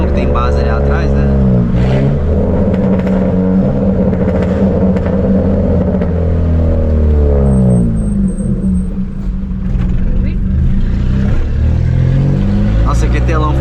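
A Chevrolet Astra with a straight-pipe exhaust revs and accelerates up close at night, its raw, loud engine note rising and falling in several surges while people talk over it.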